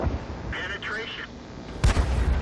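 Incoming tank shell hitting the player's tank, fired by a T-28 in World of Tanks: one sharp, heavy impact boom late in the clip over a steady rumbling engine and battle noise.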